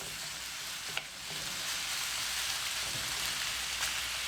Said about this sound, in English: Fry that up.